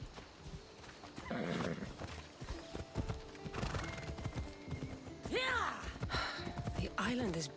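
Horse hooves clip-clop steadily as riders travel together in Assassin's Creed Odyssey, with a horse whinnying near the end and voices talking over the hoofbeats.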